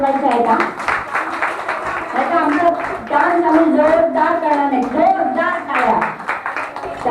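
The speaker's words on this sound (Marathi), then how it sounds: "टाळ्या मात्र सगळ्यांनी जोरदार वाजवायच्या आहेत हा" An audience claps rhythmically at a community group dance event, the steady clapping mixed with someone speaking loudly over it.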